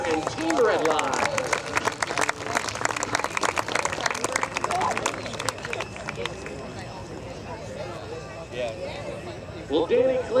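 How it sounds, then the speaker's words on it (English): An airshow crowd at an aviation event applauds outdoors, a dense wash of clapping peaking early then thinning out, with voices and an announcer talking over it. "one final round of applause for Ken and Austin Rieder and Team Redline."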